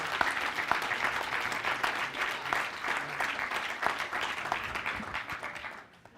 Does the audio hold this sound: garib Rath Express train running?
no